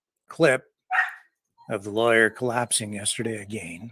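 A dog barks upstairs in a house, a few short muffled yaps early on before someone talks over a studio microphone for the rest of the moment.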